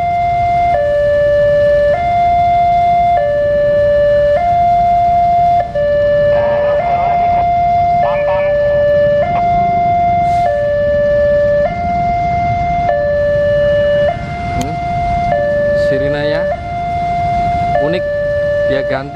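The Fajar Utama train's siren near Klaten station in Indonesia sounds loud and close as a steady two-tone wail, alternating high and low pitches for about twenty seconds over rumbling background noise.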